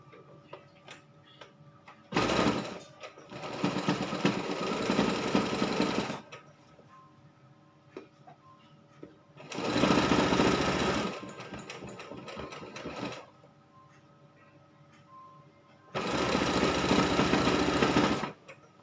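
A sewing machine stitches fabric for a child's vest in three separate runs of fast, steady mechanical chatter, each lasting a few seconds, with quiet pauses between them.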